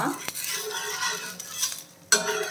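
Peanut dosa being flipped on a pan, with scraping and spatula clatter over a soft, steady sizzle, a pause, then a sharp metallic clank near the end.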